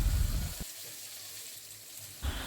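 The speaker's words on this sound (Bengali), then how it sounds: "আলুগুলো এবার ভালোভাবে ভেজে নেওয়া হবে" Potatoes and drumstick pieces fry in oil, loud bursts of crackling sizzle at the start and end with a quieter, low simmering hiss between them.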